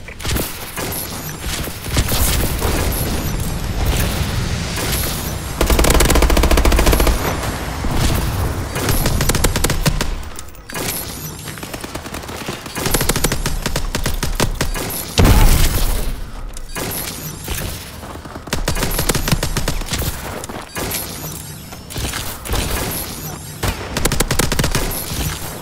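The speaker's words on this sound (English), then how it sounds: "Friendly bombing run clearing the way." Video game bombing run in a multiplayer shooter session, with dense bursts of rapid gunfire and heavy booming explosions in waves, loud and close, broken by short lulls.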